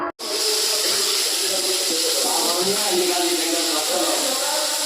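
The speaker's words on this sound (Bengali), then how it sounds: "এখন শ্যামা চালটাকে চটপট করে ধুয়ে নেব।" Shyama rice being rinsed in a home kitchen: a continuous, close rush of running water and splashing after a brief knock at the start.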